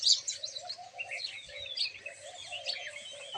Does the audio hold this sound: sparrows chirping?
yes